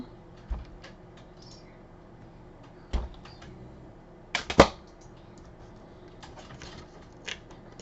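Small cutting pliers snip through a box being recycled into a display case: a few isolated, sharp clicks and snaps spread out with quiet gaps, the loudest pair close together midway.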